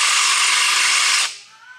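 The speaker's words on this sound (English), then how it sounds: "You have to turn the drill up the right way." A power drill spins at high speed close by with a steady whine, then releases and winds down quickly into a faint coasting whir.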